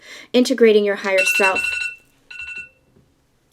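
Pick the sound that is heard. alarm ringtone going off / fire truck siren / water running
alarm ringtone going off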